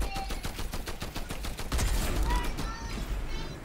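Rapid bursts of light machine gun fire in Fortnite, dense repeated shots rattling close and loud with a brief voice mixed in.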